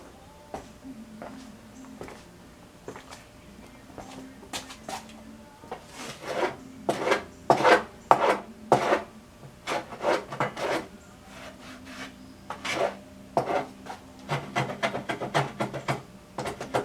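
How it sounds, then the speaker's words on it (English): A small hand planer works wood on a saw in a series of close, scraping strokes, some bursts in quick runs and others spaced apart, loud against a quiet room. "Let me go get a little planer."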